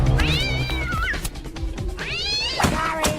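Cartoon kittens, the Cuddle Kittens from The Simpsons, meow in two drawn-out, rising-and-falling cries over a busy background, loud and close, with no one talking.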